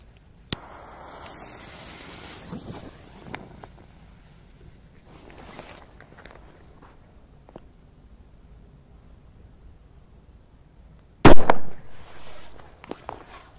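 A Korsar 4 firecracker goes off with one sharp, loud bang near the end, followed by a brief rumbling echo, after a stretch of quiet outdoor noise with a few small clicks.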